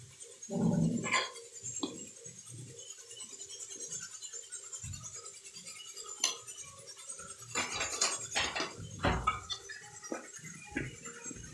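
Metal idli plates and pots clatter and clink in uneven bursts as idli batter is filled, a loud bang near the start and a busier run of knocks later, close up.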